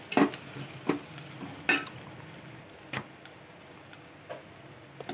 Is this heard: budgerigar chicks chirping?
no